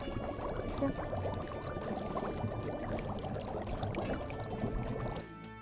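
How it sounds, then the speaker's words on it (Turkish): Water is poured to rinse a plush toy, a steady close splashing stream that runs for several seconds and then stops abruptly near the end. "Bir kez daha su geliyor."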